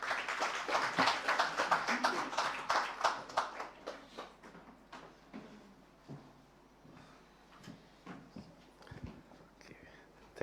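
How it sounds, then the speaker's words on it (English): Applause from a crowd, dense at first and thinning into scattered claps, with faint voices in the background. "a huge round of applause for Dr. Shahid Pervez."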